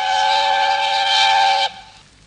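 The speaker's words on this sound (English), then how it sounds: "Presently, he heard a whistle." A steam locomotive whistle blows loud and steady for about a second and a half, then cuts off sharply, leaving a fading rumble.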